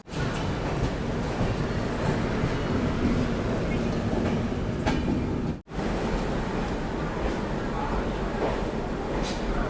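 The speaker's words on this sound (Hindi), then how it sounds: "फाइनली हम लोग की ट्रेन पहुंच चुकी है भुवनेश्वर रेलवे स्टेशन पे" Odisha Sampark Kranti Express pulling into Bhubaneswar railway station, a steady loud rumble and rolling clatter of the train throughout, broken by one brief cut near the middle.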